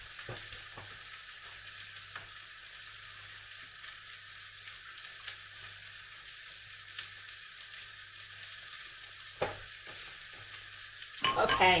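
Turkey meatballs fry steadily in a pan with a soft, continuous sizzle, occasional clinks as they are turned, and a brief spoken word near the end as the frying grows louder.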